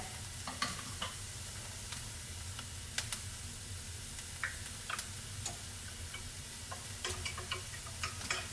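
Onions sautéing in a pan with a steady low sizzle, punctuated by occasional clicks and taps of a utensil against the pan, fairly close and without any voices.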